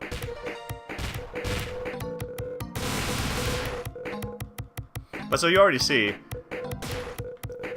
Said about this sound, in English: you cause a chain reaction, and explosion will defeat enemies and cancel enemy bullets way more effectively than just shooting them will.